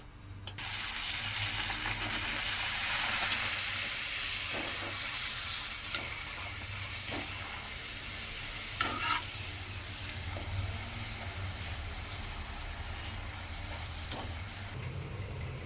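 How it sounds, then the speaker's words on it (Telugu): Wheat flour puris fry in hot oil with a loud, continuous sizzle and bubbling that runs nearly the whole time, broken by a few soft knocks and stirring scrapes before it cuts off abruptly near the end. "ఇలా అన్ని పూరీలను కూడా ఇలా ఫ్రై చేసేసుకుందాం"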